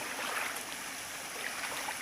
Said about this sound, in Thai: เสียง ไพเราะเพราะพริ้งนะครับ เสียงลำธาร